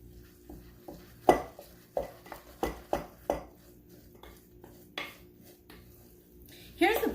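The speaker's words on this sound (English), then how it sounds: "I'm going to add an egg." Clacks and taps of a utensil against a pan ring out in an irregular series of sharp hits while egg is added to vegetables cooking, with a quieter stretch before a final cluster of knocks.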